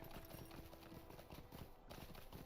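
Horse hooves clip-clopping at a steady slow pace in the online game Lord of the Rings Online, a continuous rhythmic trot heard close and alone.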